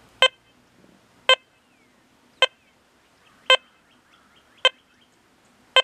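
A Deus 2 metal detector gives its 28.5 kilohertz target tone: six short, identical beeps spaced about a second apart, crisp and clear over a quiet background.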